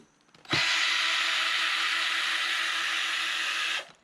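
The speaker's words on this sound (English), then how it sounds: "I'm gonna be in charge of the drill" A power drill runs continuously for about three seconds while backing screws out of a school bus floor, a steady whining buzz that starts and stops abruptly, close and loud with no speech.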